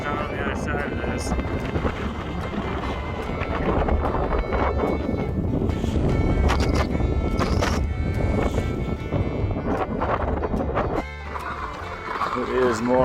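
Strong wind gusts roar steadily into the microphone on a winter ski trek through the Yellowstone wilderness, with the crew hauling big gear sleds, and the buffeting continues throughout while a voice speaks briefly.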